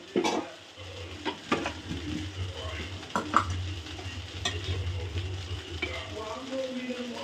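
An egg frying in a pan with little oil while making egg fried rice: a soft continuous sizzle with spatula scrapes and clinks against the pan, close and fairly quiet, a few brief voice sounds.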